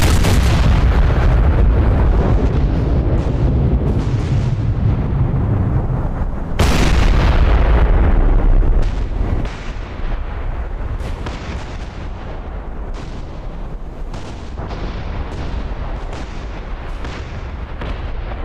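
Gunfire in a naval video game battle, with booming heavy cannon blasts and a dense, continuous barrage of rapid shots, loud and close, with no speech.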